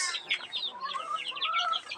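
Chicks in a brooder peep and chirp continuously in a dense, high-pitched chorus, fairly close, with many overlapping calls and no talking.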